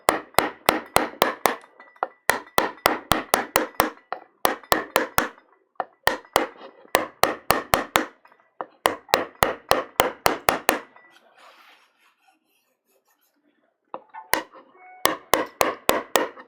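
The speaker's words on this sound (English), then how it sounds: "it's a bit of slight tapping here" Rapid bursts of sharp wooden tapping during a Japanese woodblock printmaking session, loud and close, arriving in quick rhythmic runs separated by short pauses, with a near-silent gap before the tapping resumes.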